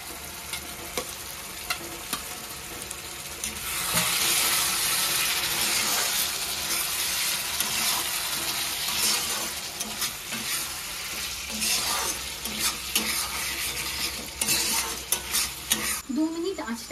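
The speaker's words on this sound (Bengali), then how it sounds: "এবার আমি ভেজে রাখা পনিরগুলোকে দিয়ে দেবো" Fried paneer is stirred into a sizzling, oil-glossed masala in a pan, a continuous loud frying hiss with repeated scraping strokes of a spatula and occasional clinks, close up and without talk.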